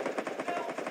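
Rapid bursts of automatic gunfire in a video game rattle in quick succession, a tight stream of sharp shots with no talking.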